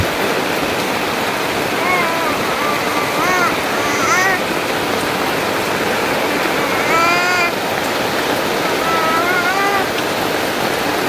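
Steady, dense hiss of heavy rain pouring continuously, with scattered high chirping calls rising above it.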